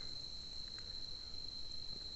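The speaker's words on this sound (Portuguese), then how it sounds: "Só o barulho dos grilos, né?" Crickets chirp at night outdoors in a steady, faint, high-pitched trill that continues unbroken, with a few soft insect clicks and no voices.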